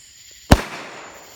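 A single Fourth of July firework bursts with one sharp, loud bang, followed by a fading crackling tail over quiet outdoor background.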